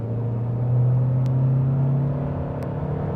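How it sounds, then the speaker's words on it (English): A 2025 Honda Accord SE accelerates under turbo boost, its engine rising in a smooth, steady low drone heard from inside the cabin, with a couple of faint clicks over the hum. "Boost kicks in and the speedometer starts climbing"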